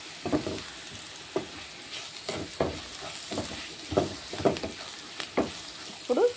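Spices and salt stirred through vegetables frying in a pan, with taro about to go in: repeated scraping stirs over a steady soft sizzle, moderately close, no talking.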